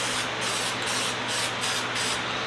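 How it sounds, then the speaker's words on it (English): Aerosol lacquer sprayed in a quick coat over rusty tool box hardware: a steady, loud, close hiss that carries through the whole stretch, with faint rhythmic pulses as the can sweeps back and forth. "I'm going to throw a real quick coat of lacquer on there, keep them sealed."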